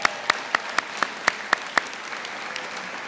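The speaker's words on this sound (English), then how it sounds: "That deserves a round of applause." At a school district convocation, an audience breaks into applause, with loud, evenly spaced sharp claps near the front over a steady wash of crowd clapping.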